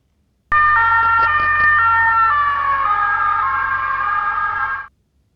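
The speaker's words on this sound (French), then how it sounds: "c'est une voiture de police qui se rapproche de nous, qui ensuite s'éloigne de nous" A police car siren wails in a steady two-tone pattern that drops in pitch as it passes close by, loud throughout, then cuts off abruptly, with no voices.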